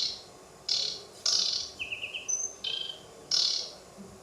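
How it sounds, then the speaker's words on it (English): Aquatic warbler song on its own: short, spaced bursts of high, buzzy chirps and a brief rapid trill, repeated with pauses over a steady background hiss. "this place has aquatic warblers, so I recorded them on their own"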